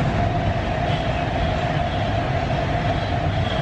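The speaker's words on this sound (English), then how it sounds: "Well, that's an Avanti going to London Euston." An Avanti passenger train bound for London Euston comes into the station with a steady rumble and a sustained tonal whine, holding loud and even the whole time with no voices.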